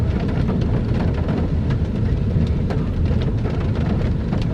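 Steady heavy rain falls outdoors in Hangzhou, China, a dense, continuous hiss of drops with scattered sharper patters on nearby surfaces, loud and close, with no voices over it.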